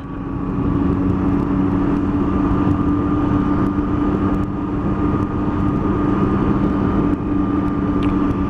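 A 2018 Triumph Tiger 800 XRT motorcycle riding along the side of a Scottish loch, a loud, steady engine drone with rushing wind noise that holds constant throughout.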